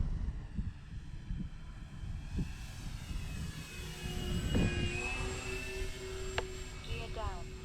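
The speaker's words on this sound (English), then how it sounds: "we're gonna bring her by for a low pass." An Avios King Twin 1700mm RC model airplane makes a low pass at an outdoor flying field, its twin electric motors rising to a whining buzz as it approaches and then fading, under steady wind noise.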